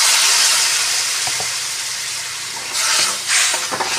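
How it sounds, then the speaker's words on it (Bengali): Tadka masala frying in hot oil for dal, a loud, steady hissing sizzle close by that swells again near the end, with no talking. "এবারে মশলাটা ভালো করে তেলের সঙ্গে ভেজে নেব"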